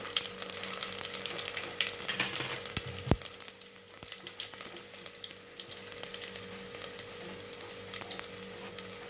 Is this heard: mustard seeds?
yes